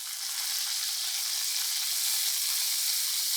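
Steak fat sears in a hot pan, giving off a loud, steady, unbroken sizzling hiss with no voices over it.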